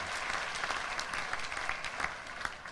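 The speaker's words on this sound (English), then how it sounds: "Can I please ask all of you to give a big round of applause" An audience at an investment summit in Bangladesh applauds steadily, a dense patter of many hands clapping at moderate volume, heard from within the crowd.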